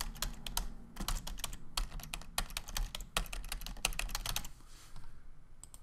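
Typing on a computer keyboard, with rapid irregular clicks in quick bursts and short pauses, close and clear against a quiet background.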